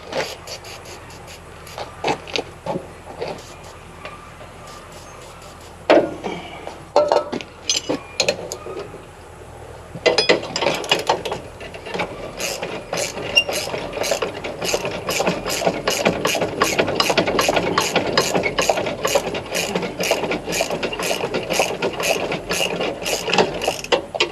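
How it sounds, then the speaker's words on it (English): A wrench ratchets on a bolt in quick, regular clicking bursts, close by, with some scattered metallic handling sounds before the steady ratcheting takes over. "Maybe I got the right wrenches."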